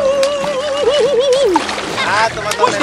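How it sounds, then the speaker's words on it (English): A child splashes and pushes sea water by hand at a beach during a swimming lesson, with soft repeated splashes close by under steady adult talk and sung calls. "You push the water. Push all the water away."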